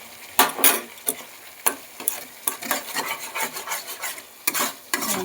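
Fresh coriander leaf paste with turmeric is stirred in a pan as its water cooks off, producing close, irregular scraping and rasping strokes over a faint sizzle, with no talking.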